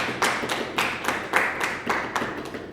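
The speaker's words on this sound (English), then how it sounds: "Clapping is in order, delegates." Delegates at a model UN committee session clapping once a resolution passes, a steady run of about eight evenly spaced claps, moderately loud in a room.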